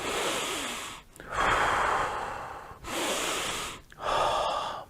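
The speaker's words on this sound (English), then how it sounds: "Deep breath." Slow, deep relaxing breaths taken close to the microphone, alternating long airy inhales and exhales in a steady rhythm with short pauses between, loud and alone without talk.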